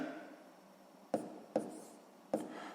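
Three short, sharp taps of a pen writing an equation in a sixth-grade maths exercise, quiet and close against a faint hiss, with no talking.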